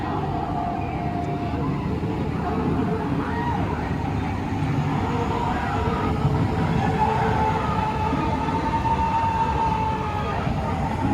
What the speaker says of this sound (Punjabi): ਆ ਵੀ ਟ੍ਰੇਨ ਆ ਗਈ